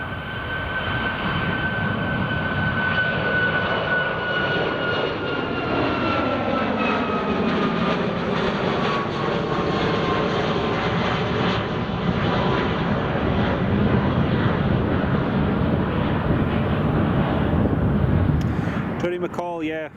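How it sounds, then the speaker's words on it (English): A Ryanair jet roars as it takes off from runway 24 at Edinburgh Airport, a loud, sustained engine rumble with a whining tone that slowly shifts in pitch, with wind noise. People talk briefly at the end. "There's a Ryanair just rotating off runway 24."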